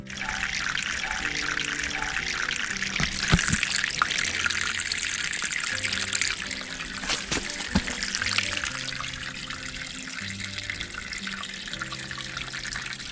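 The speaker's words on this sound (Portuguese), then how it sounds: "a água ela desce, né, e ela segue no riozinho lá" Water flows steadily down a small stream in a wooded park, a continuous close rushing and trickling with a faint tonal hum underneath.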